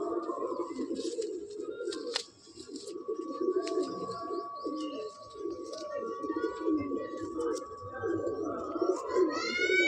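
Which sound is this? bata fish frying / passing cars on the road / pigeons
pigeons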